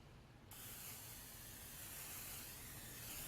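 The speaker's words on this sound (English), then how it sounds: "real important to spray that with cooking spray" Cooking spray hisses into a large casserole dish, a steady close burst lasting about three seconds after a brief quiet start.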